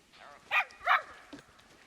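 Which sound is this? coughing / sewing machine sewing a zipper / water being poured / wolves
wolves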